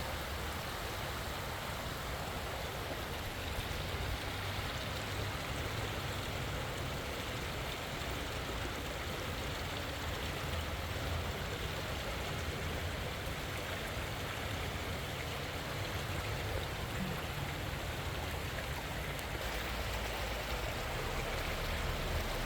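A stream flowing through a river channel, a steady close rush and babble of water that stays even throughout with no other sounds.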